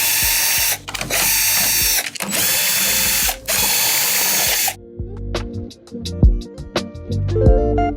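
A power driver or ratchet removes screws from the back panel of a Sharp LC-55P6000U LCD TV lying face down, giving loud whirring bursts followed by lighter clicks and taps close by.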